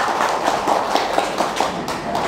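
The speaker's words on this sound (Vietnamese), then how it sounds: "quý vị cho một tràng vỗ tay để tặng cho đạo hữu" A crowd applauding at a Buddhist dharma talk, a dense, steady wash of clapping hands that holds evenly for a couple of seconds, fairly loud and close, with no speech over it.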